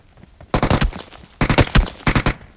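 Automatic gunfire from a bot in the mobile game Metro Royale rattles out in three rapid bursts, loud and close, separated by short pauses.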